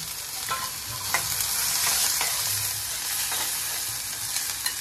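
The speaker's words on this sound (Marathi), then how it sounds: "आता लसूण घालते आणि कांदा जरासा आपण तेलाला परतून घ्यायचा. कांदा कढीपत्ता पण घालते." Garlic, onion and curry leaves sizzle in hot oil in a pan with asafoetida, a steady frying hiss with occasional stirring scrapes, close and continuous with no talking.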